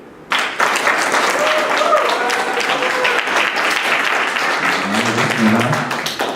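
An audience breaks into sustained applause to welcome speaker Seff Al-Afriqi, a dense wash of clapping that starts abruptly and holds steady at full volume, with a voice faintly audible underneath near the end.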